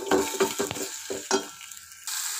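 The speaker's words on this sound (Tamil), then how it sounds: "இப்போ நம்ம அந்த அரைச்ச மசாலா எல்லாமே இதில் போட்டுக்கலாம். நல்லா கிண்டி கொடுத்துக்கோங்க." Ground masala is stirred and sautéed in a pan for Tamil pepper rasam: a few quick scraping strokes of a spoon over a soft, steady sizzle, close up and without talk.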